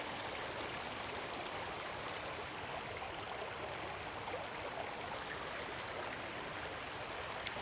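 Steady, continuous rush of creek water flowing over rocks in a dry-summer wetland, a close broadband wash with no pauses, no voices over it.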